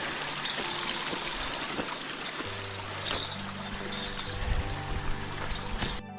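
Water flowing at a river crossing high in a mountain canyon on a trail up Mount Ogden, a steady close rush and trickle filling the whole clip with no talk.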